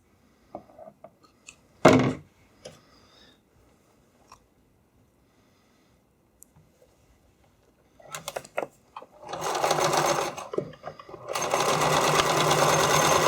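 A sewing machine stitches the seam of a homemade skate cover, running in a long steady burst after a few short clicks and handling noises, close and loud.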